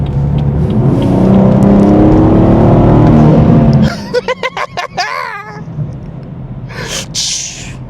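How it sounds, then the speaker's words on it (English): A BMW 440i with an MST intake revs loudly and close by, then lets out a rapid fluttering chatter from its blow-off valve, followed by a brief hissy release. "it's giving me like old school, like HKS blow off valve sounds"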